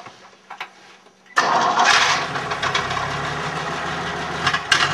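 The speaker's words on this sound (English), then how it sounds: "We're gonna hear his truck." After quiet cranking and clicks, an old truck engine suddenly catches and roars to life, then settles into a loud, rough, uneven running rumble.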